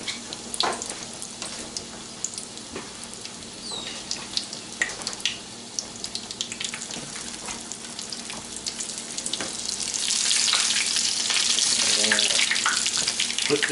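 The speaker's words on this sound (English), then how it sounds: "once we get this oil heated up, we'll take our patties and put them in there" Katsu burger patties fry in hot oil, a steady hiss and crackle that grows louder and fuller partway through, with occasional clinks and no talk over it.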